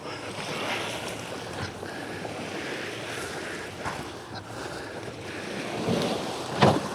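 Sea waves wash against a sailboat on the Estonian coast between Lohusalu and Kakumäe, a steady close surf with gusting wind buffeting the microphone and a louder splash near the end.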